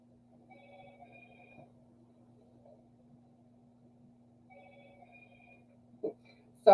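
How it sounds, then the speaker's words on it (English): A telephone rings indoors in two separate bursts of electronic warbling tones, fairly faint and set against a steady hum, then a couple of louder knocks close by near the end. "that's our phone going off"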